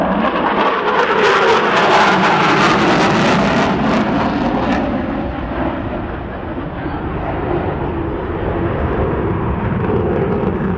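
A loud, continuous roar from an F-14B fighter jet passing low in a Navy airshow attack demonstration, with crackling jet noise throughout and the tone shifting as it passes.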